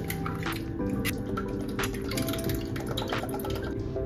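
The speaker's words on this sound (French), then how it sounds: "je vais mettre 5 œufs pour les deux et 2 briques de crème liquide entière" Whole liquid cream poured from cartons into a bowl for quiche filling, a steady continuous splashing trickle in a kitchen, moderately loud and close throughout.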